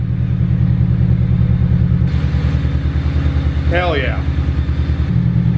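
Honda Del Sol with about 366,000 miles running, its engine a loud, close, steady pulsing rumble with a brief lift in revs partway through, while a voice exclaims over it.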